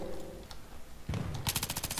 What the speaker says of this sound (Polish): Tam jest snajper, co trzaska ciągle do mnie.